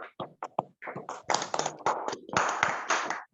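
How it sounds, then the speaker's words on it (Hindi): Clapping from a small group of people welcoming a speaker, with uneven bursts of claps that start sparse, then thicken into a steady round, fairly close. "आप सभी की एक बार जोरदार और डिजिटल और जैसे भी फिजिकल तालियों के बीच बुलाने जा रहा हूँ।"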